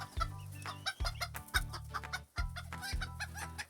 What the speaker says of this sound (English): Wait, now what is that noise? Oh, it's a rooster.